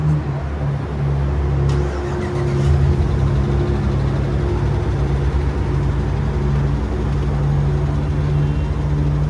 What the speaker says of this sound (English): Beautiful, beautiful startup on this Ram 1500.